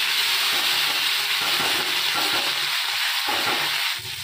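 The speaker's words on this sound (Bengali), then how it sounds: "শুকনো লঙ্কা আর 5 ফোড়ন দিয়ে এই যে আলু পেঁয়াজ কেটে রেখেছি দিয়ে দিলাম" Potatoes and onions hit hot oil with panch phoron and dried chilli, giving a loud, steady frying sizzle with occasional stirring scrapes throughout.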